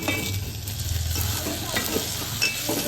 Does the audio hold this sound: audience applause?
no